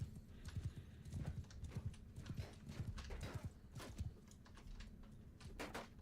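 Horse hooves clatter in a busy, irregular clip-clop in a medieval battle video game, several cavalry horses moving together at a moderate distance, fairly quiet overall.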